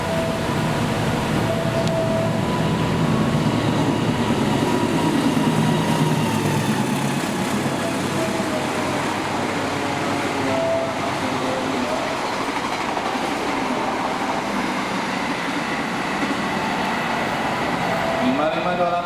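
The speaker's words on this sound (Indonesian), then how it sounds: "Jadi kita bertemu lagi dengan KRL tersebut berbarengan dengan melintasnya kereta api Argo Merbabu di jalur baru DDT." Argo Merbabu train running on the new double-double track alongside a KRL commuter train, a steady loud rumble of passing rail cars with faint clickety-clack throughout, voices murmuring beneath.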